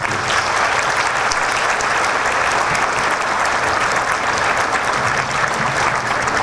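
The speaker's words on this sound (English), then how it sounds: "Let's give them a round of applause" A large conference audience breaks into loud, continuous applause, a dense even wash of many hands clapping at once that holds steady throughout.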